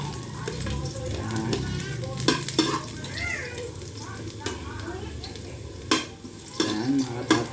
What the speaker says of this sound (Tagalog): Mag-igisa na ako ng bawang at sibuyas.